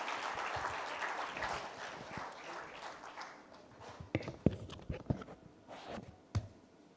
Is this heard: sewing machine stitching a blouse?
no